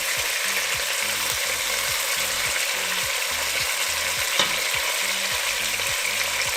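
Pork pieces frying in three tablespoons of cooking oil for adobo, a dense continuous close sizzle with faint rhythmic mechanical clicking underneath, no talk.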